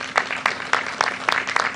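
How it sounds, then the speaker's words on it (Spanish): Applause from an audience of ejidatarios at an outdoor public event on a passenger train construction site in Mexico, a brief stretch of scattered, fairly close claps forming a light patter. "un gran aplauso"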